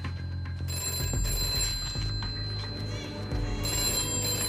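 An old-style telephone bell rings in bursts indoors, a bright metallic trill repeating over a low background hum, moderately loud with no speech.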